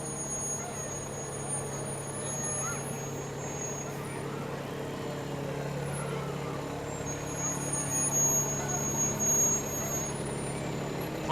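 Pumper 96 of the Corn Planter Volunteer Fire Department rolls along in a parade, its diesel engine a steady low rumble at moderate distance with a slight swell toward the end amid faint crowd ambience.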